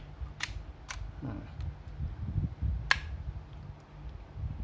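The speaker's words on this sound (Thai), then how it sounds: "ตัวนี้ขึ้นชัตเตอร์ข้างล่าง ลงมาแบบนี้ ขึ้นชัตเตอร์ แล้วกดถ่าย" Canon Canonet rangefinder film camera shutter clicking, with sharp mechanical clicks near 0.4, 0.9 and 2.9 seconds over low handling noise and a steady background hum.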